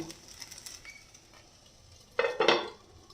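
Metal utensil stirring cheesy chicken pasta with mozzarella in a pan, soft scraping and faint sizzle, then two louder clattering scrapes near the end; no talking.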